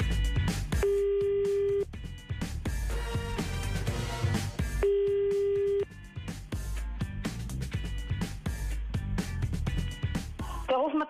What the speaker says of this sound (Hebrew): הנה, הטלפון מצלצל.